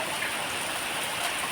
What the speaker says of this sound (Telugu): అసలు అయితే చెట్ల కింద వాన పడుతుంది